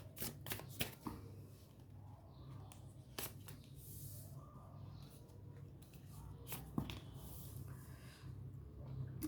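Tarot cards being shuffled in repeated bursts of papery riffling and flicking, close and fairly quiet over a low steady hum, with no talking.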